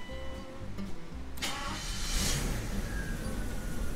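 A parked BMW starting up in a collector's garage, a starter crank followed by the engine catching and settling into a steady, rumbling idle close by.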